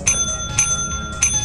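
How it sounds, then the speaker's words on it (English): A bell rung three times in the video game Lethal Company, each bright metallic ding evenly spaced about half a second apart and ringing out over a low background hum. "if you ring the bell too often..."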